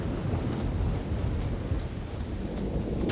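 Rolling thunder from lightning in the video game Elden Ring Shadow of the Erdtree, a continuous loud low rumble with a rain-like wash, no speech.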